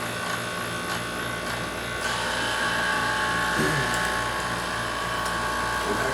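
A vacuum pump powered from a hooked-up power supply runs steadily, giving a continuous electric buzz with a strong mechanical hum that holds from start to finish. The pitch rises slightly partway through, and a faint voice sounds beneath it.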